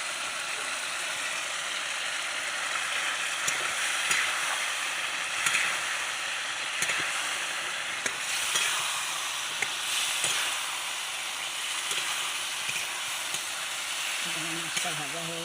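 Fish fries in a pan with spices, giving a steady close sizzle and hiss throughout, with occasional scraping and stirring clicks from the utensil.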